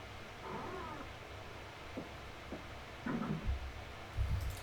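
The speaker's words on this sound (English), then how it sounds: "Oh, it's a cat." A cat in the video game Clock Tower: The First Fear gives a few faint meows and yowls over a low, murky game background, with several short soft sounds spaced through the stretch and no talking.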